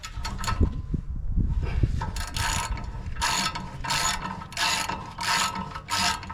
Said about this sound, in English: we're going to take the 17 millimeter screws out of the back of the caliper